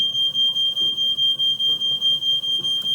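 A smoke alarm, set off by an oven on very high heat while cooking, beeps loudly and insistently in a steady, rapid rhythm of shrill repeated tones, with faint room noise underneath.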